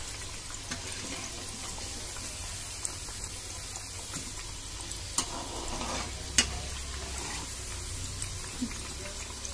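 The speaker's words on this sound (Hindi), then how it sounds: "और गैस को कम पे ही इसे फ्राई करना है।" Thekua, the crisp fried wheat sweet, frying gently in oil over a low flame: a soft, steady sizzle with occasional faint clicks and pops from the pan.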